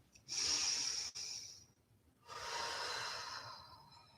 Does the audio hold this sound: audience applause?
no